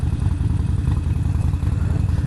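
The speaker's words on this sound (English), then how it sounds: "Man, I still love the sound of that. That exhaust sounds kick-ass now." Harley-Davidson Forty-Eight motorcycle exhaust idling with a loud, close, steady low rumble of rapid even pulses, with no talking.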